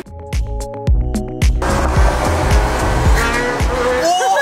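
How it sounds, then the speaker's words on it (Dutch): A car engine revs hard and loud, close by, with rising squeals of tires skidding toward the end. "Echt dikke motor."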